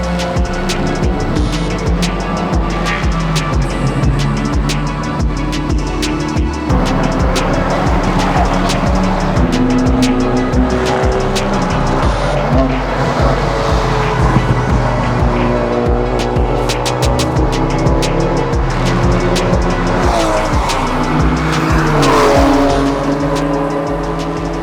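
Honda Civic FK8 race car lapping Brands Hatch on a drying track, engine loud and close as it revs through repeated upshifts and downshifts, with bursts of tire noise, steady throughout with no talk.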